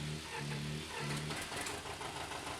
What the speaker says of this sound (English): Turning over the big engine